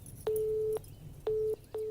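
Telephone busy signal in a dubbed Tamil action film, a steady tone repeating in short on-off pulses, clear and alone.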